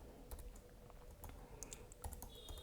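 Quiet, close keystrokes on a computer keyboard as Python code is typed, an uneven run of soft clicks with no talk.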